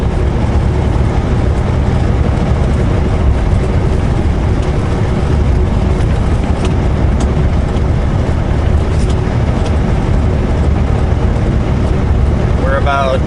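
A truck cruises along Highway 95 near Lewiston, Idaho in the early morning, its engine and road noise forming a steady, loud broadband rumble throughout, with a voice briefly heard near the end.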